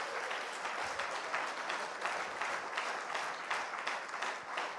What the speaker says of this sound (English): with a loud round of applause, can we welcome Mr. N.K. JIJITH on stage?